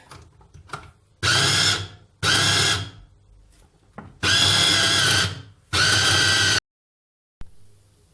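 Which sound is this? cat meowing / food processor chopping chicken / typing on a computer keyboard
food processor chopping chicken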